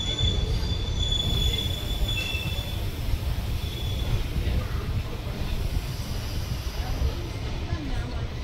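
Train wheels squeal steadily over loud, continuous rumble and hiss at Dhone Junction, close and unbroken throughout.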